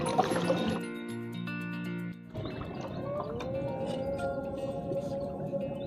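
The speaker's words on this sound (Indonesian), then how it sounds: "Tuh, sudah terdengar suara tahrim" A tahrim chant broadcast from a mosque loudspeaker at dusk, heard outdoors on a windy evening: a sustained, wavering melodic voice drifts continuously at moderate distance, with no talk over it.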